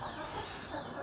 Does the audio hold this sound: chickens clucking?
yes